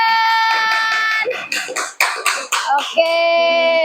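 Children clap their hands in a classroom, a short rhythmic run of about six sharp claps set between stretches of sustained tonal sound.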